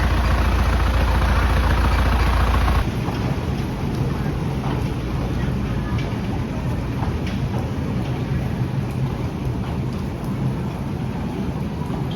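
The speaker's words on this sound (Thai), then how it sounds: "ฝนตกไปไหนไม่ได้เลยครับ" Heavy rain pours steadily at a crocodile farm, a dense hiss of drops on surfaces with a deep rumble at the start, continuous and loud throughout.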